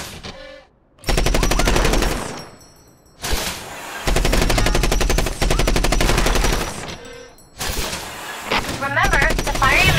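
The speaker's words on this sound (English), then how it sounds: "Remember to fire your machine gun in bursts to avoid overheating." Mech machine gun fire in Front Mission Evolved, fired in several long loud bursts of rapid shots separated by short gaps, with game voice and sounds between bursts.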